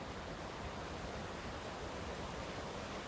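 Steady, dense rush of water pouring over a small hydropower diversion weir on a mountain stream, a continuous broadband roar that holds loud and unchanging throughout with no voices.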